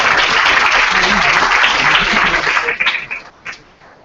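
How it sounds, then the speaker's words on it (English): Audience at a coder summit applauding the panel moderator, loud sustained clapping that thins into scattered claps and fades out over the last second. "let's give her a round of applause"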